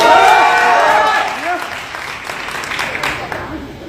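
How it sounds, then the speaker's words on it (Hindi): A crowd at a live Bhojpuri music stage event claps in a continuous, moderately loud patter that is strongest at the start and then tapers somewhat. "आप सभी को मेरा सादर प्रणाम एवं ताली बजा के आशीर्वाद देते हैं।"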